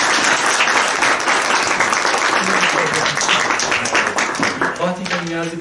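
Steady, loud applause fills a licence ceremony as a group claps continuously, with a few voices rising near the end.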